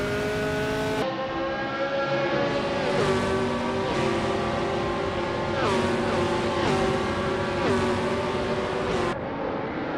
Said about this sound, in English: Hogger 3 is driving a 1968 Surtees TS5.